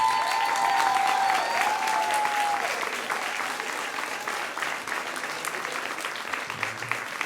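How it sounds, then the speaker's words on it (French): Audience at an evening show applauds performer Catherine Terrien with steady, full crowd clapping that holds evenly throughout, while a faint sustained tone lingers at the start. "On applaudit Catherine Terrien."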